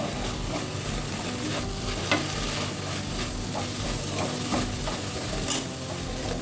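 Methi (fenugreek) leaves are roasted in a pan for chutney, making a steady close sizzle. Scattered scraping taps of stirring run through it, and no voice is heard.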